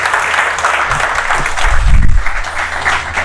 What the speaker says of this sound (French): on applaudit d'abord pour la crypto-monnaie